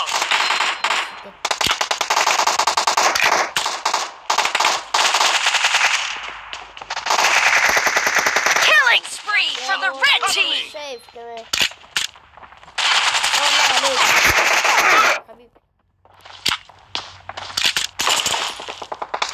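Rapid automatic gunfire in the mobile battle-royale game PUBG Mobile, long dense bursts of loud shots with short gaps, mixed with game sound effects and a voice speaking in between.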